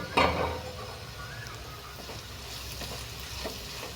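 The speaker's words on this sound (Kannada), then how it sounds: "ಇವಾಗ ಈ ಮಸಾಲೆನೆಲ್ಲ ಹಾಕಿ ನೀಟಾಗಿ ಫ್ರೈ ಮಾಡ್ಕೊಳ್ಳಿ" Masala sizzling and frying in a pan for corn fried rice, a steady close crackle with a brief louder burst near the start and faint stirring scrapes throughout, no voices.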